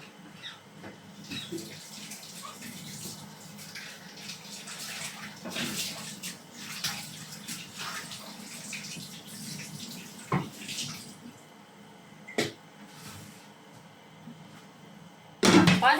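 Tap water runs into a sink while pork is washed before cooking, a soft continuous splashing with occasional clinks and knocks, fairly faint, ending in a louder gush.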